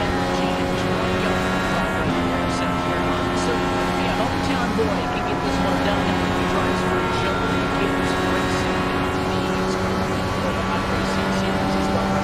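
A race car engine in the iRacing Indy sim drones at high revs with a steady harmonic whine, loud and continuous throughout, while a commentator talks over it.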